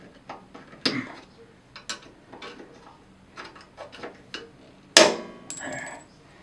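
Light, irregular metallic taps ring out as 3/8-inch pins are knocked out of a Harmon pellet stove door, about a dozen close strikes with one sharper, louder hit near the end.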